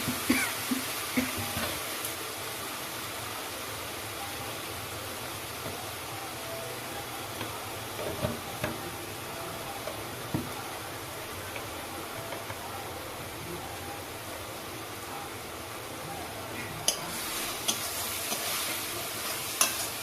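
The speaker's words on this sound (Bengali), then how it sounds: "এবার মশলাটাকে খুব ভালোভাবে কষিয়ে নিতে হবে যাতে আদা রসুনের কাঁচা গন্ধটা মশলা থেকে চলে যায়" Spice masala with salt, turmeric, ginger and garlic being stirred and fried in a pan for egg and masoor dal fritters: a soft, continuous sizzle with scraping stir strokes, fairly quiet and close, with no speech.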